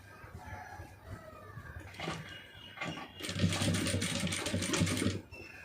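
A sewing machine stitches fabric in a short continuous run in the second half, preceded by a couple of brief bursts, with no talk.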